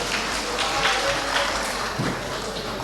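Crowd applause at a Pakistani Independence Day celebration event in Dubai, a mid-level wash of clapping from a large audience in a venue, steady and unbroken for a few seconds.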